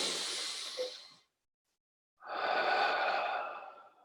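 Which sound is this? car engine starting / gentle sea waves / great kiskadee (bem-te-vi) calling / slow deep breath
slow deep breath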